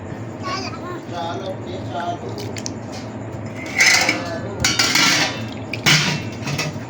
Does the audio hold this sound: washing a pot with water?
yes